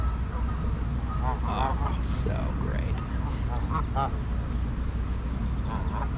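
Geese and other waterfowl honk and call at Echo Park Lake, several calls scattered through steady outdoor background noise, while a person speaks briefly.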